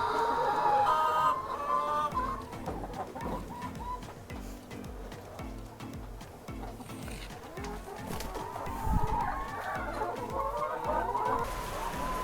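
Laying hens on a farm clucking repeatedly in a busy, continuous flock chorus, close and fairly loud, with no talk over it.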